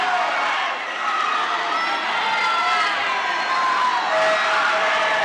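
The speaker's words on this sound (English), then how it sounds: "Look at the Ashland team cheering him on." An Ashland swim team shouts and cheers continuously for a swimmer in an echoing indoor pool, a dense crowd roar with a few whistles, no single voice standing out.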